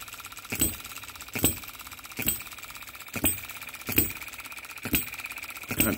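Baker Ball Top Monitor hit and miss model engine running, with evenly spaced firing pops just under a second apart over a faint, steady mechanical clatter.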